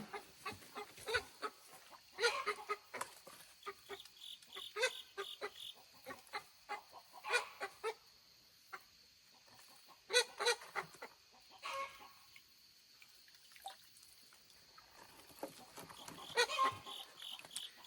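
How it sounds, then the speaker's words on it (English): Backyard chickens in a garden with raised beds, clucking in soft, irregular bursts with a few sharper squawks, close by and steady throughout, with no talking. "Got chicken stuck in my raised bed."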